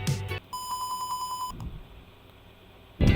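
An Arduino buzzer answers an incorrect keypad password with a steady series of about eight rapid, evenly spaced beeps lasting around a second, alone in a quiet room.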